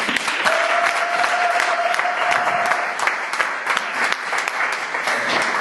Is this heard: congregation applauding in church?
yes